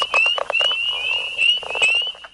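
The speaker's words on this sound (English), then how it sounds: "The sounds of frogs and toads." Frogs croak and trill in a dense chorus, rapid pulsing calls overlapping with a steady high-pitched trill, close and fairly loud.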